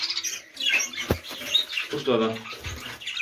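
Pet birds kept in cages chirp in quick, bright bursts close by, mixed with soft rustling, while someone talks over them.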